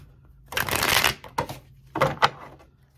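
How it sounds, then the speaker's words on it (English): Tarot cards shuffled close up by hand, a few quick riffling bursts with short pauses between them, no talking. "so that y'all can actually see me shuffling up these cards"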